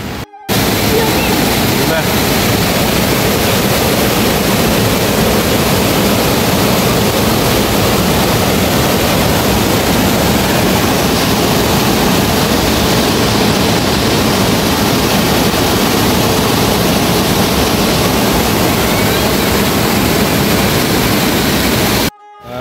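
The flooded Sardu river rushes past in rain with a loud, dense, continuous roar of muddy water that fills the whole clip without a break.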